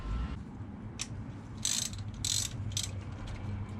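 A ratchet with a 10mm socket clicks in short bursts while loosening the ignition coil bolts on a Mazda Miata NB2, sharp close pawl chatter over a low background hum.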